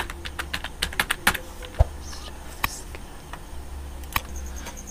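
Keys clatter on a computer keyboard while an online registration form is filled in, quick irregular clicks with short pauses, close and moderately loud, with a faint voice in the background.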